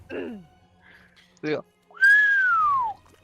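A person imitates a skink's hissy whistle with the voice, giving short breathy bursts and then a longer falling whistled tone near the end, close and clear.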